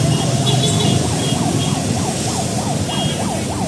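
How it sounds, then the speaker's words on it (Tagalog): Fire truck siren wailing along a busy market street in Manila, a rising and falling whoop repeating several times under heavy street noise and engine rumble. "antabayanan po natin yung pagdating naman ng truck ng bumbero"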